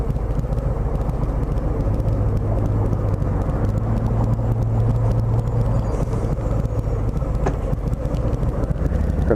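Riding a 2018 Harley-Davidson Softail Low Rider motorcycle, with a steady, loud low engine rumble and wind rush running continuously throughout, no speech.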